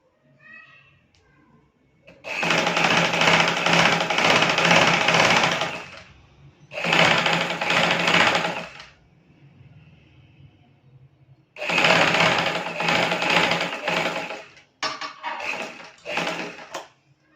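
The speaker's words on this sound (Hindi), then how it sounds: "उस सिलाई के ऊपर रखकर इसकी सिलाई करेंगे।" A sewing machine stitches ruffles onto a baby frock in loud, steady bursts of rapid mechanical whirring, close up, with short pauses between runs.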